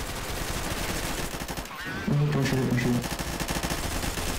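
Bursts of automatic gunfire in Counter-Strike: Source Zombie Escape, rapid rattling shots dense and loud throughout, briefly dipping before a tonal game sound cuts in over continued firing.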